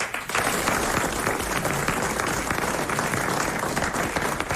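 A studio audience on a French television show applauds Jean Dutour, a thick, even wash of clapping that holds at full strength for several seconds without voices.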